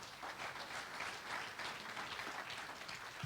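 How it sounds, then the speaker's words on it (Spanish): A church congregation applauds at a Spanish-language service, giving a faint, steady patter of many hands clapping that keeps going for a few seconds with no speech. "Dale un aplauso grande al Señor."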